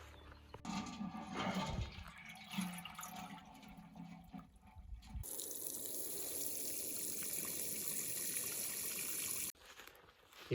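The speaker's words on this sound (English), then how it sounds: "Now I'm going to get some water in the stream to water them." Water is scooped up from a stream for watering young plants, a few soft handling thumps first, then a steady rushing, pouring flow that runs for several seconds before stopping.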